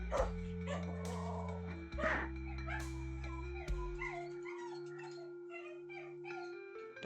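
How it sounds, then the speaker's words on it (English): A pet dog barks and howls indoors, its excited calls repeating at moderate distance over a steady electronic hum and background tones. "Dog's gone mental."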